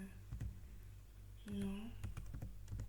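Typing on a computer keyboard indoors: bursts of quick key clicks in a steady rhythm, close and fairly quiet, with a voice speaking over part of it.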